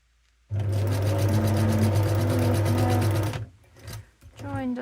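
A sewing machine stitching rows across a fabric snippet roll runs in a steady, close whirring burst for about three seconds, then stops, leaving faint handling noises and a voice.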